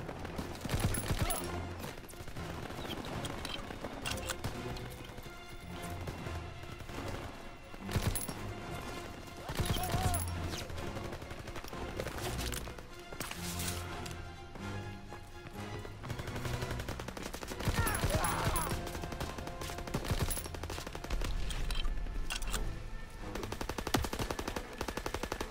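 Rapid automatic gunfire and scattered shots rattle through a Call of Duty WW2 firefight near a church, dense and continuous with bursts rising and falling, over game music and effects.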